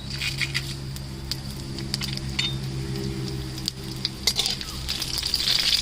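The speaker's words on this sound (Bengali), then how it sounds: "আমি সরষের তেল নিয়ে নিচ্ছি। দিয়ে দিচ্ছি শুকনো লঙ্কা, তেজপাতা, দিয়ে দিচ্ছি 5 ফোড়ন" Dry chillies, bay leaves and five-spice hit hot mustard oil in a pan for a Bengali chana dal curry, crackling and spitting in an irregular sizzle with sharp pops and a low background hum.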